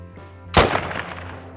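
A single loud, close Mosin rifle shot fires during a deer hunt in theHunter: Call of the Wild, with a sharp crack and a short rolling echo that fades over a quiet hum.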